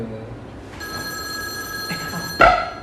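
A telephone rings with a steady electronic tone, followed by a sharper, louder burst near the end, with faint room noise underneath.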